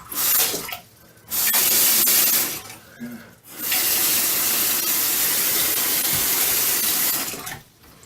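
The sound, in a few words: water spraying and running from a sink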